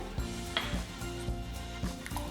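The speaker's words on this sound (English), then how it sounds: "And then whisk it all together." Egg and vanilla extract being whisked in a bowl for lemon blueberry scones, with a run of quick irregular clinks and taps of the whisk against the bowl, fairly close and with no voices.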